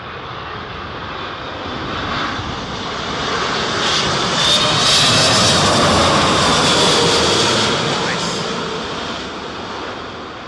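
A Singapore Airlines jet lands at Heathrow during Storm Isha, its engine roar swelling to a loud peak midway and easing off, heard over steady gusting wind.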